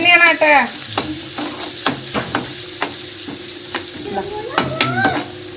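Onion and mustard seeds fry in hot oil in a pan, a continuous close sizzle broken by repeated sharp clicks and scrapes of stirring, without talk.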